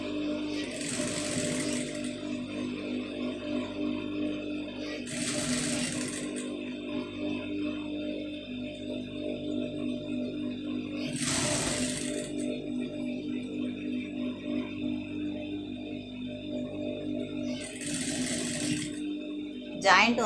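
Sewing machine stitching cloth, running in four short bursts spaced roughly five seconds apart over a steady background hum, with a person talking in between.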